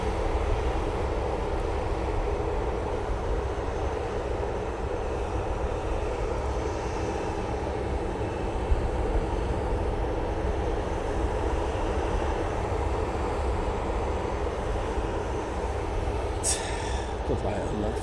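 A passenger jet taking off from Manchester Airport for Lanzarote gives a steady, broad engine roar that holds at moderate level throughout, with faint background noise and no clear talk.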